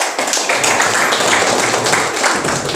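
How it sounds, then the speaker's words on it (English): An audience applauds after an academic panel discussion, a dense, loud wash of many hands clapping continuously. "I need a round of applause for this"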